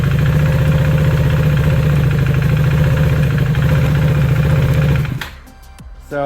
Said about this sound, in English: let me turn the bike on here